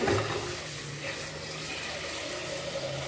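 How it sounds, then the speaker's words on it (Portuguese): Water runs steadily into a pot of beans being cooked for feijoada, a continuous close splashing pour that holds at an even level for the whole stretch with no talking. "E agora eu vou pôr a água."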